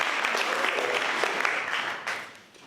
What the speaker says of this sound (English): give a round of applause to the thumb wrestler champions of the room